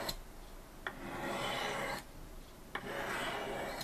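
A knife blade is drawn along the rods of a Spyderco Sharpmaker in soft, rasping strokes, each one opening with a light click, three to four passes in a slow even rhythm.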